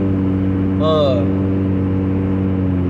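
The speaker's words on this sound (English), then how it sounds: "I got a loud car" A loud car engine runs close by with a steady, low droning hum throughout, and a voice briefly rises over it.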